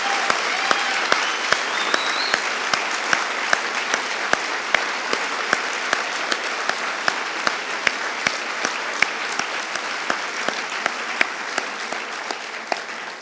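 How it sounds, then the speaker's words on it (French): Sustained applause from an audience at the opening ceremony of a 2014 pleading competition, honouring bank students; dense steady clapping with sharper individual claps standing out throughout, no speech. "applaudissements généralisés pour"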